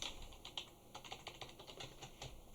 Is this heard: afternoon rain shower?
no